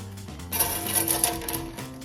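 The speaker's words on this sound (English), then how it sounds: "We're gonna take our cashews and we're gonna toss them in this hot basket." Cashews tossed into a hot air fryer basket make a short burst of bright rattling clatter, close and brief, over a low background hum.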